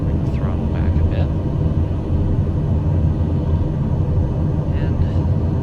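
A small, sensitive plane's engine drones as a loud, steady rumble while throttled back in descent, continuous and close, with faint whistling tones briefly above it.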